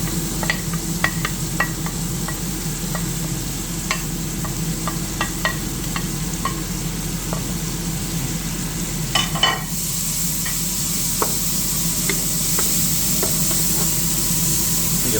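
Shrimp fried rice with chopped white and red onion fries in a hot pan, a continuous loud sizzle and hiss with scattered crackles and occasional stirring scrapes, unbroken throughout.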